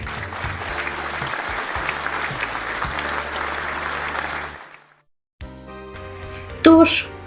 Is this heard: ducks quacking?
no